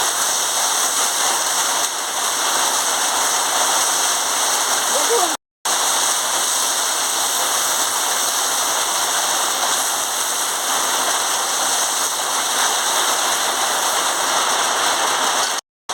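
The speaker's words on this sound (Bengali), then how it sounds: "বৃষ্টি হচ্ছে বলে শোনা যাচ্ছে না" Steady heavy rain pours without a break, a dense hiss with splashing throughout, briefly cut out twice.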